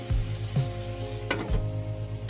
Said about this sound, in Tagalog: Lutuin muna natin yung chicken natin guys.